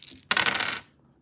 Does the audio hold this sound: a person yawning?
no